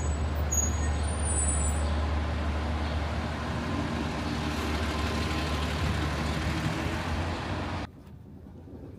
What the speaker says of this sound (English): And the bus is taking off.